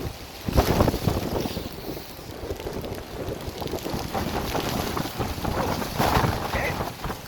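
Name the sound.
strong wind on Fansipan mountain top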